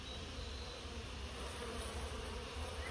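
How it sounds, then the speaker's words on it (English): Wasps buzzing steadily at close range around their nest, a dense continuous insect drone with no voices over it. "I'm getting very good footage of the bees inside the nest"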